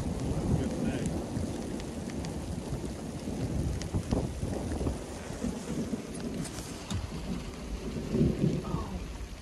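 Rain pours down in a thunderstorm, a steady dense hiss of drops on surfaces with low rolling thunder rumbling underneath and swelling toward the end.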